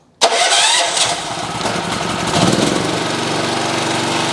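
Close by, a MOLLAR MLR 4500 SE petrol generator with electric start fires up suddenly and runs on at a loud, even idle, its engine noise holding steady with slight swells.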